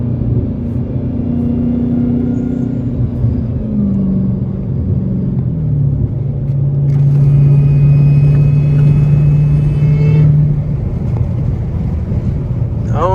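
A Dodge Hellcat with its hood removed runs close by, its supercharger whine rising and falling as a steady tone over deep engine rumble and wind noise, with a brief climbing whine near the end.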